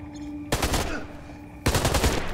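Gunfire in the PS4 remastered video game Beyond: Two Souls: two loud, sustained bursts of rapid shots, the first after a brief quiet moment and the second following a short gap, close and dense.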